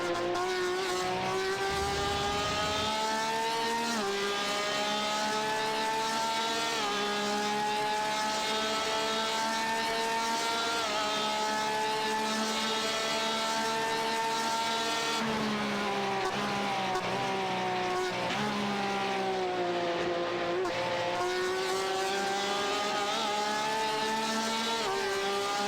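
Porsche race cars lap Sebring International Raceway in the iRacing sim, with a loud, continuous engine whine climbing and dropping through gear shifts and a few brief dips as a car brakes into corners.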